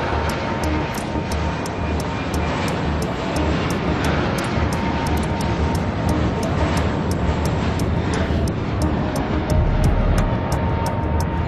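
Airliners taxi and take off in the airport game Airport Madness Vancouver: a steady, loud engine roar runs throughout, with a faint regular ticking layered on top.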